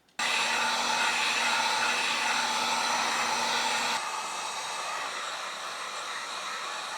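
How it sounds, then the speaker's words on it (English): A heat gun, used to curve a custom WWE Undisputed Championship replica belt, switches on with a loud, steady blowing whoosh and a high whine, then drops to a softer setting partway through and runs on alone. "So we're going to get a heat gun."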